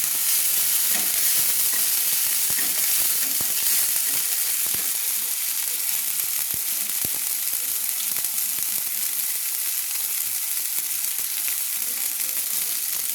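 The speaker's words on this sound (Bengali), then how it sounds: "যতক্ষণ ভাজা না হচ্ছে ততক্ষণ" A turmeric and chili powder spice paste fries in oil in a pan for a soybean recipe, making a continuous close sizzle with frequent scraping clicks of the spoon stirring it, and no voices.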